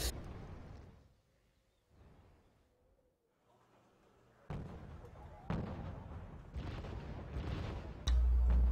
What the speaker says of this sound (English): So I was able to bombard everything.